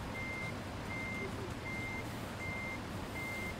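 A truck backing up with its reversing alarm sounding steady, evenly spaced beeps, five in a row, over a constant low engine rumble.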